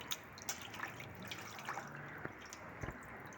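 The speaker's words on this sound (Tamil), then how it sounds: "இது நல்லா தண்ணி ஊற்றி நல்லா அலசிக்கோங்க ஃபஸ்ட்டு." Fish roe being rinsed in water for a fried fish egg dish, with quiet splashing and dripping water close by and no voices.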